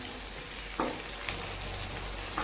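Tomatoes sautéing in a pan for a cluster bean stir-fry: an even, continuous sizzle with a few brief scrapes from stirring, close and alone.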